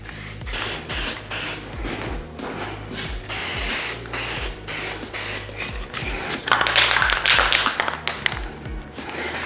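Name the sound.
spraying protective coating on VW engine part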